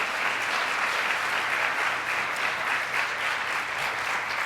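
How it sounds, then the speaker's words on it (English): A room full of people at a panel discussion claps steadily and warmly, a dense, even wash of applause that holds at the same level throughout. "just one more round of applause for the panel"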